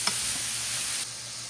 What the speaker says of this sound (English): we got our bacon in the pan here. So what we're gonna do is we're just gonna cook this down, get it all nice and crispy